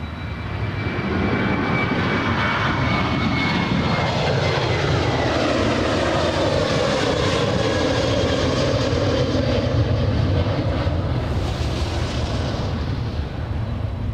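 Boeing 747 airliner jet engines roar steadily and loudly at Anchorage airport, a broad continuous rumble with a rising whine near the end and no speech.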